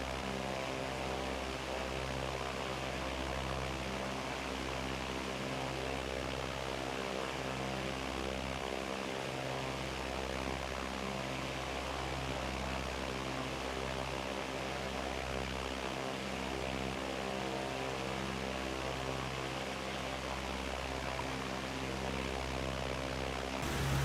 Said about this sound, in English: just so you guys can just listen to the plane